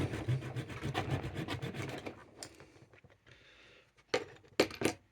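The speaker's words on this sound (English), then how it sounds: "Once I've done the saw all the way around the neckline" A hobby saw rasping around the neckline of a plastic miniature, close and quiet, with steady back-and-forth strokes for two seconds, then sparse scratches and a few sharper scrapes near the end.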